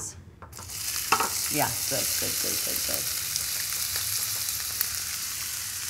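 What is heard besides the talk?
onions sauteing in dende oil in a small pan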